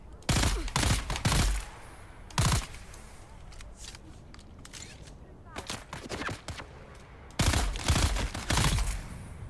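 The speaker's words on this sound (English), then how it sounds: "Funny that not everybody hears the gunshots." Bursts of rapid gunfire in the video game Dune: Awakening in several volleys, loud and close, separated by quieter stretches of background game noise.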